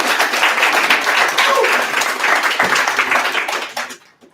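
An audience at a poetry reading in a pub claps steadily for about four seconds, a dense close wash of hands that fades out abruptly at the end.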